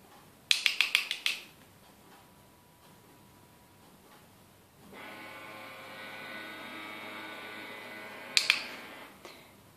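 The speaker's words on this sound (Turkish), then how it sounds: "Yazıcıdan ses geldi şu anda." A printer runs with a steady mechanical whir for several seconds, bracketed by short bursts of clicking and ticking before and after.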